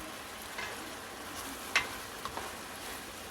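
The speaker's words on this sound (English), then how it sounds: "Just keep stirring it, because if you don't stir it, it will stick to the bottom of the pan." Taco meat for citrus tacos sizzles softly in a pan while being stirred, a faint steady frying hiss with one brief sharper scrape and a couple of small clicks.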